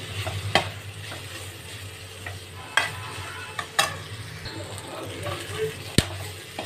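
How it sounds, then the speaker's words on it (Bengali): Chopped green chilli and tomato stirred in a frying pan, a low steady sizzle under scraping spatula strokes with several sharp clicks against the metal, close by. "কেটে রাখা টমেটোটা দিয়ে ভালো করে নেড়ে নেব"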